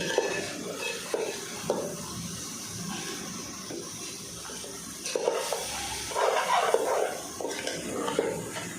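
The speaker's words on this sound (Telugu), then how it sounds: "ఒక ఫైవ్ మినిట్స్ ఇలానే బాగా ఫ్రై చేసుకోవాలండి" Goat head curry fries in a pan with a soft, steady sizzle and bubbling, while occasional scrapes and clinks from stirring come through at moderate distance.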